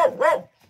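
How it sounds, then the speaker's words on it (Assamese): A dog gives one sharp, close bark, then a faint trailing yip. "কুকুৰটো ভুকি আছে ভয় লাগে বোলা।"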